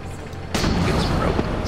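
Tank cannon firing in World of Tanks: a sudden loud boom at about half a second, followed by a sustained rumbling, crackling tail that fills the rest of the moment.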